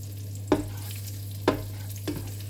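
Potatoes and onions fry in a pan with a steady low sizzle, broken by three sharp clacks of stirring spaced about a second apart. No one speaks.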